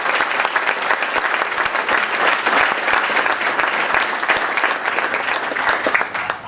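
A crowd claps enthusiastically after a 70th wedding anniversary is announced at a gathering, a loud, even burst of applause that stays full throughout and tapers at the very end.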